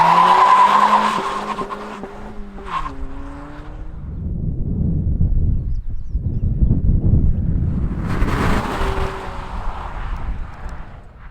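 A 2023 Acura Integra with a CVT in sport mode accelerates hard on throttle around Austin, with engine tone rising and shifting, a brief dip, then a roar of wind and tire noise building again.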